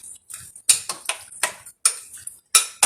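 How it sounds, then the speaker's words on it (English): A spoon clinks and scrapes against a bowl while brown sugar is stirred into coke and beer BBQ beans, a series of sharp, uneven taps at close range with brief pauses between strokes. "And now you mix all that up."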